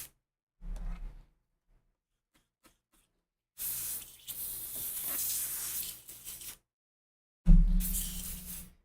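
Short bursts of paint overspray hiss from an airbrush onto a werewolf mask, several separate sprays of a second or two each with quiet gaps between, close and soft.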